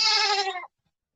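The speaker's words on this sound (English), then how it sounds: "There's the baby goats, huh?" A single short bleat from a baby goat in a farm goat garden, close and clear, lasting about half a second before silence.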